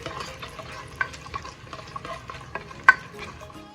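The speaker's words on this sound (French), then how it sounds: "ensuite l'oignon émincé et faire mijoter pour quelques secondes" Minced onion, added after palm oil, sizzles and simmers in a pan for a Togolese spinach sauce, with soft steady frying crackle and a few sharper clinks of stirring.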